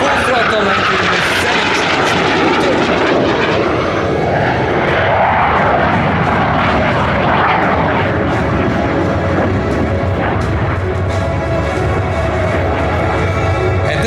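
Frecce Tricolori MB-339 solo jet at full throttle during an airshow display at Cold Lake, a loud, continuous engine roar that swells and shifts in pitch, overlaid by a commentator's steady talk.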